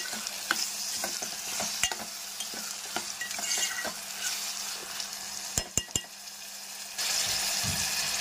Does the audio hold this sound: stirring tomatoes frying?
yes